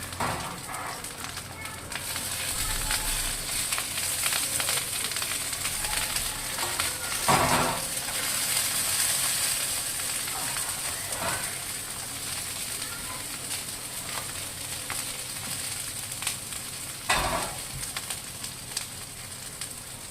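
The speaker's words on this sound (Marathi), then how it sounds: "आता हे वांग्याचे काप टाकून घेतलेले मी तेलामध्ये." Eggplant slices frying in a pan of oil give off a continuous close hiss, with a few sharper crackles and spits breaking through the sizzle.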